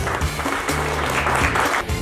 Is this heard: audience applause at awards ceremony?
yes